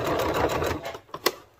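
A sewing machine stitches a sleeve seam with a brief burst of rapid mechanical whirring, followed by a couple of soft clicks as it slows and stops.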